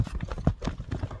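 Horse hooves clip-clop in a quick, uneven rhythm of close, dull thuds on hard ground, continuing without pause over a short stretch.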